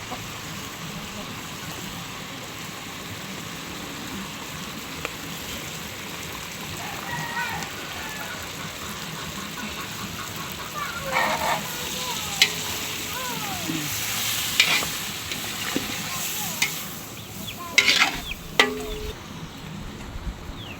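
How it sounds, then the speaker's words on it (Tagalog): Tomato sauce going into a pot of simmering kaldereta, cooked as fiesta food, brings a steady sizzling bubble with stirring scrapes and a few sharper clatters near the end. A faint voice may sit under the sizzle. "Atin na pong ilalagay ang tomato sauce"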